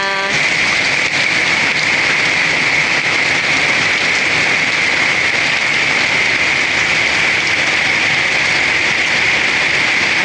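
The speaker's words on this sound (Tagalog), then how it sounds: "Kaya grabe po ang ulan po ngayon." Torrential rain from a typhoon in Santa Cruz roars continuously, a loud, even wash of hissing water that never lets up, heard alone without talk.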